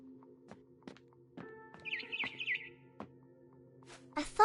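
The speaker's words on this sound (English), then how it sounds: "Then I heard chirping outside my window." A barn swallow chirps outside a window in the video game What Remains of Edith Finch, a short bright burst of chirps among soft knocks and thumps, near and fairly quiet, ending in a louder final flutter.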